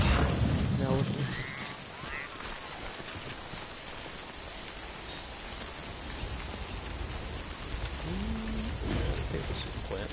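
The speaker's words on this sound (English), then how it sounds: "I hate the rain." Steady hiss of heavy rainfall in the video game Death Stranding, dense and continuous throughout, with a few faint tonal game sounds mixed in and no clear talking.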